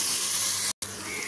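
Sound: ginger garlic paste and chili paste sautéing in hot oil

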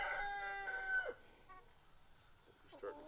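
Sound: loose chicken crowing outside

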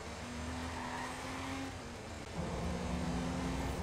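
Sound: car engine sound in the video game Watch Dogs

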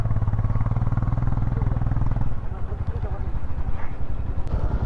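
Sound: Royal Enfield Himalayan motorcycle engine while stuck

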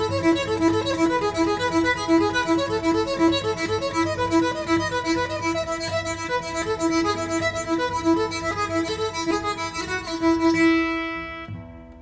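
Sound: guitar played with Pickaso bow, single string technique

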